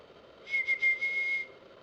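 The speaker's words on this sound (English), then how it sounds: "I can smile and whistle at the same time." A short, bright whistled phrase of a few quick notes, close and clear, with no talking.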